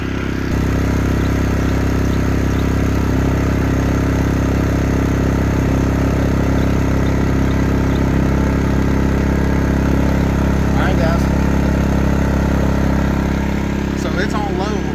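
A motor idles steadily at low RPM on a cold day, a continuous, even, quiet low rumble with faint clatter that never surges, close by throughout.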